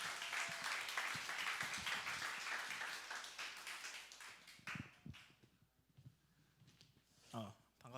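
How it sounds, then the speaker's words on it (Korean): A church congregation at a youth worship service claps in welcome, a steady wash of applause that tapers off after about five seconds, leaving quiet room sound with some faint voices and a brief thump near the end. "우리 나오실 때 우리 큰 박수로 환영해 주셨으면 좋겠습니다."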